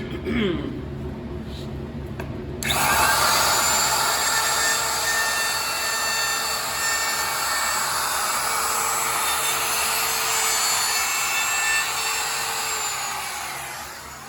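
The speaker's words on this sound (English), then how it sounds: "I'm going to run the router over that once more" A power router whines at high speed cutting wood for a shelf, starting abruptly and holding a loud, steady roar with a slight shift as it cuts, then winding down.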